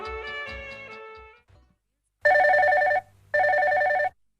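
A telephone rings in two loud, even bursts with a short gap between them on a radio call-in song-request show, after a few moments of a voice and a brief silence.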